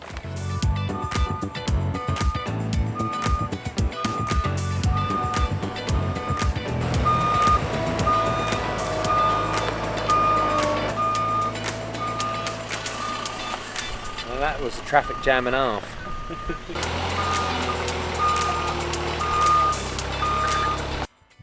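A lorry reverses with a steady, repeating beeping alarm on a farm track at a derelict barn rebuild, its engine rumbling nearby throughout while someone talks over it.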